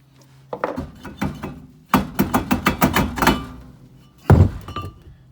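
On a 1998 Chevy Blazer 2WD, a worn-out wheel hub is hammered to knock it loose. Close, sharp metallic blows come in irregular bursts, with a quick flurry in the middle and a heavy final strike.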